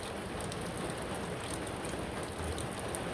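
Hurricane Ian rain in Homosassa: a steady, dense hiss of heavy rainfall on surfaces, unbroken and close, with no voices.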